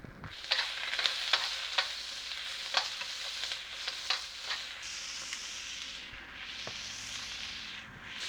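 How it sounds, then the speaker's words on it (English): Beef hits a hot wok with garlic and chopped onion and stir-fries in a loud crackling sizzle, broken by a run of sharp spatula scrapes and clacks against the metal. "Now we're gonna start adding our beef."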